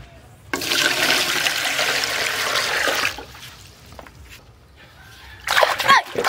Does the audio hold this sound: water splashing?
yes